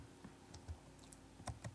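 Keys on a computer keyboard are typed in a short, irregular burst, a handful of soft clicks close by with quiet pauses between them and no voices.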